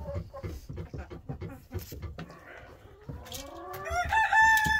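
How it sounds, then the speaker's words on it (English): Roosters in a chicken coop during snowy weather, first clucking and scuffling in a quick uneven rhythm, then one bird near the mic lets out a long rising crow that ends strong and loud. "I'll take the rest of my water and go over to the roosters really quick"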